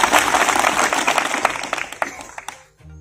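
An audience at a gathering inside a jail breaks into dense applause, loud at first, then thinning into scattered claps before stopping near the end.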